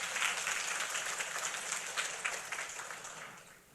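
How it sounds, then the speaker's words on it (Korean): A church congregation applauds during a worship service at Yongin Hwagwang Church in Korea: a steady, dense wash of clapping from many hands that carries through without pause and slowly fades toward the end. "우리 하나님께 박수로 영광 돌리겠습니다."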